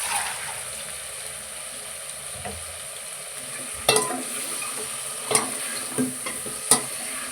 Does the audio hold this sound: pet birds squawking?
no